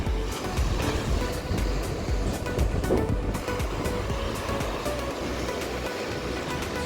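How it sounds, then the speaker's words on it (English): Good-sized ocean waves breaking on a soft-sand beach on Hatteras Island in the morning, a continuous rolling surf roar with wind, steady and fairly distant, no voices. "There's some good sized waves this morning"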